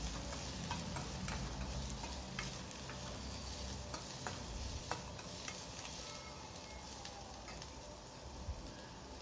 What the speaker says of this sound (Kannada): ಈಗ ಇದನ್ನು ಚೆನ್ನಾಗಿ ಬಾಡಿಸ್ಕೊತಾ ಇದ್ದೀನಿ ಎಣ್ಣೆಯಲ್ಲಿ.